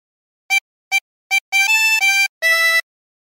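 A tremolo harmonica plays a short melody phrase: three brief separate blown notes, then a longer run of sustained reedy notes and a final held chord, clear and close with silence after.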